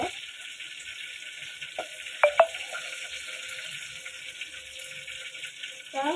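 Mustard seeds crackle as they go into dal, a steady close sizzle broken by a few sharp pops.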